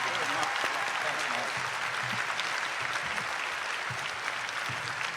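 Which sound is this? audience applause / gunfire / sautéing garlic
audience applause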